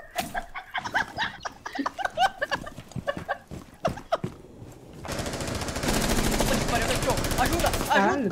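Rapid gunfire in the Rainbow Six video game, a dense sustained burst filling the latter half after a stretch of excited talk and shouting from players.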